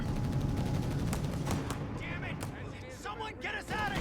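Sherman tank and mortar fire in the strategy game Company of Heroes 3, with rumbling explosions and bursts of gunfire layered densely over a fast-talking commentator.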